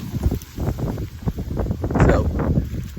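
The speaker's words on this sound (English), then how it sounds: "God, it's windy." Gusty wind blows outdoors around a tree-trimming job on a dead tree, a steady rushing roar with buffeting on the microphone and broadband swells that rise toward the end.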